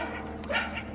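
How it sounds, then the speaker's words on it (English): A coyote gives a short, dog-like bark or yip, heard at moderate distance over a steady low background hum. "Oh, coyote."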